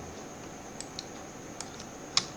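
Someone types on a computer keyboard while editing C++ code, producing sparse, faint key taps at irregular intervals and one sharper click near the end, all over a steady background hiss.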